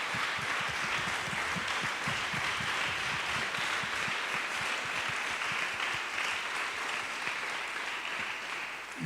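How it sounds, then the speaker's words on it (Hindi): A church congregation applauding loudly, dense sustained clapping that fills the whole stretch at an even level with no pauses. "आइए जोरदार ताली से परमेश्वर का धन्यवाद दें."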